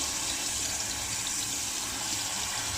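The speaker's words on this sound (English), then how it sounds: "Some running water." Tap water runs steadily into black rice being rinsed, a continuous close splashing hiss with little variation over a few seconds and no voices.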